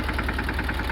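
A tractor engine runs while the tractor stands half-submerged in river floodwater in Lalpur, Jamnagar. It gives a loud, steady, rhythmic idling throb with a knocking pulse, close by and with no voices.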